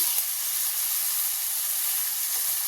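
Tomatoes hitting a hot frying pan of fried onion, curry leaves, garlic and turmeric for tomato dal, giving a loud continuous hissing sizzle up close.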